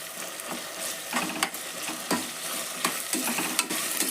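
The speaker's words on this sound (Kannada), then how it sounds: "ಇದು ಎಣ್ಣೆ ಒಳಗೆ ಫ್ರೈ ಆಗಕತ್ತೈತದ" Garlic and coriander paste fries in hot oil with a steady close sizzle, broken by repeated scraping and stirring knocks from a spoon against the pan.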